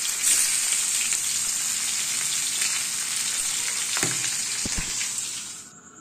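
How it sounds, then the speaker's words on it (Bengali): A large fish fries in hot oil with a continuous bright, crackling sizzle close up, a few pan knocks near the end before the sound tapers away. "এরকম করে সব মাছগুলো ভেজে নেব"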